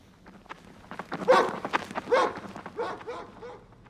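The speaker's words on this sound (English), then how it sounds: "It's just a dog. It's just a little nice little dog." A small dog in a horror video game, barking and whimpering in short yips at moderate volume, with a couple of louder bursts in the middle over quiet game ambience.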